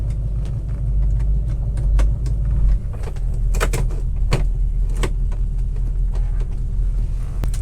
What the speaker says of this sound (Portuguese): Som de V8, uma das mais belas melodias já criadas pela humanidade